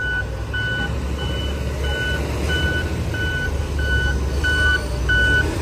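Heavy equipment truck backing up at a busy Divisoria vegetable market, its reversing alarm beeping in a steady evenly spaced series over a low diesel rumble and crowd bustle.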